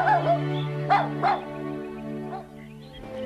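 A small cartoon dog in an animated Bible story about Jonah gives several short, yappy barks and whines in quick bursts, then quieter whimpers, over a sustained low background tone.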